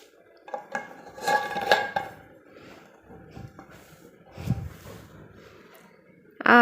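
Airtight lids being closed on jars of homemade pickle, close clinks and scraping handling knocks in a few clusters, ending with a sharp closing clack, with no talking.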